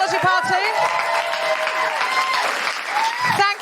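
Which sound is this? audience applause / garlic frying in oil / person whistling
audience applause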